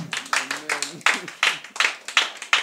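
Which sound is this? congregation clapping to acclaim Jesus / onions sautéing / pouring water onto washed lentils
congregation clapping to acclaim Jesus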